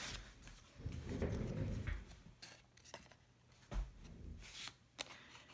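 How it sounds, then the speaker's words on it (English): Scissors snipping through a drawn cardboard spiral, following it inward, with a cluster of dense, close cutting and rustling noises early on, then sparser clicks and snips. "So I'm cutting between the two blue lines all the way until I get to the middle."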